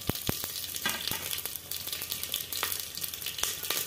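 Cumin, mustard seeds, whole spices and three chilies hit hot oil for a rajma pulao, a loud, close, continuous sizzle with sharp popping crackles scattered throughout.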